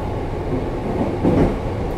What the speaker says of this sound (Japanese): 列車は伯耆大山の駅を通過しています。